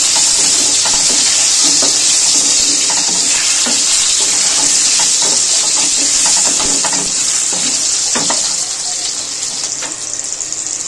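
Long strips of potato sizzle loudly and steadily in hot oil in a home kitchen pan, a constant close hiss with occasional stirring clatters.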